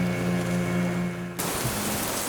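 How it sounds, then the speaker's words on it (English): Dense, continuous hiss of torrential tropical rain in the Solomon Islands, with a low engine hum that cuts out midway, leaving the roar of the downpour. "This is that torrential rain that you get in the tropics."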